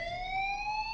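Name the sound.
fire alarm ringing at school in video game Life Is Strange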